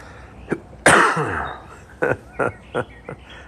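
A single loud, harsh cough, followed by a few shorter, quieter bursts of breath or throat noise nearby.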